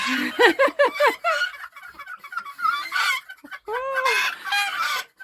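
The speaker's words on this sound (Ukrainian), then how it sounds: "А хто це такі захриплі? Ще голоси, ламаються голоси в них." Young roosters in a backyard crow with breaking, hoarse voices, several close, loud, cracked crows in a row, with a longer rough crow near the end.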